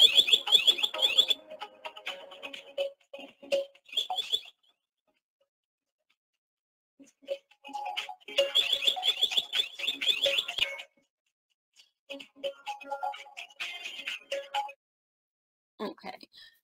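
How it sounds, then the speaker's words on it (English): Alarm tones from a Dahua security system sound in repeated bursts of rapid beeping with pauses between them, moderately loud and electronic. "in that particular case, it was just sounding an alarm"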